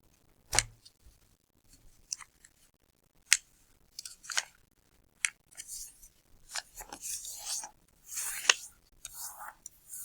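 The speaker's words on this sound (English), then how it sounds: "I'm going to take my right side and I'm going to fold it to my left side" Sheets of origami paper being folded side to side for a butterfly, giving sharp creasing snaps and soft rustling in irregular bursts close by, with a faint whispery voice in places.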